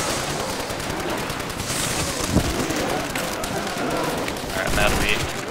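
Rapid machine gun fire in the video game Nazi Zombies, a dense continuous rattle of shots with occasional louder bursts, mixed under ongoing chatter from players.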